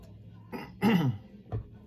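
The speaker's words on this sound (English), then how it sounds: "Clear my throat." Someone clears their throat once, a short rough rasp flanked by a couple of smaller throaty noises, close to the microphone.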